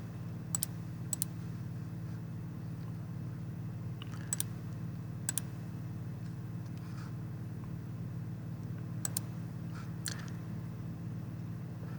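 Sharp mouse clicks while setting up an AWS EC2 server in a web console, scattered singly and in close pairs, clear but light over a steady low hum.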